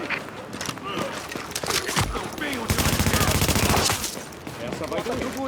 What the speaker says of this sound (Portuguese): Unidades da JTF em tiroteio intenso no Parque da Primeira.